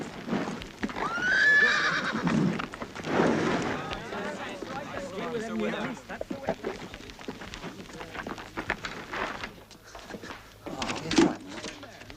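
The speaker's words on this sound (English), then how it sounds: "Mind the horse." A horse whinnies loudly near the start, with hooves clopping and people talking throughout, ending with a second short neigh.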